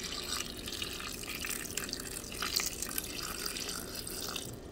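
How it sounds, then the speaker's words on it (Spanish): A cup of water is poured into a blender jar holding cashews and chipotle chiles, giving a steady, moderately quiet splashing trickle that runs for several seconds with no talking. "Y ahora le voy a agregar la taza de agua."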